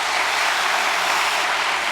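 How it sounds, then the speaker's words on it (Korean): A large audience at a Unification Church UPF gathering bursts into loud, sustained applause, a dense uninterrupted roar of many hands clapping at close range with no speech over it. "다시 한번 박수해 주시기 바랍니다."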